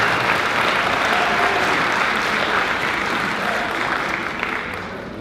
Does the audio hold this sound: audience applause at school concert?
yes